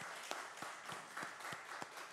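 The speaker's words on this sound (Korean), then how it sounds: "우리 하나님 앞에 영광의 박수 올려드립시다." Church congregation clapping in steady rhythm during a Korean Sunday worship service, with even beats about every third of a second over a wash of crowd noise in a reverberant hall.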